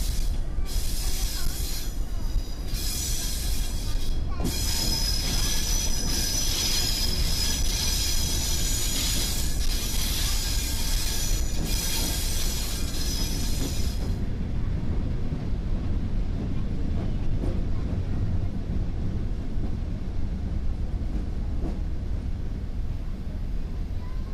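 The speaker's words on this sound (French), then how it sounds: "notre train se présente à l'entrée de la gare de Spontin" Heritage train on the Chemin de Fer du Bocq pulling into Spontin station, wheels squealing loudly with rolling clatter that fades into a quieter rumble as it slows.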